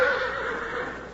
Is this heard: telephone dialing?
no